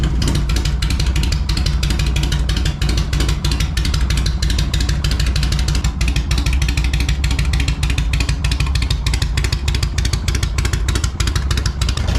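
A motorcycle engine idles and runs steadily, a loud, continuous rumble with rapid mechanical clatter throughout.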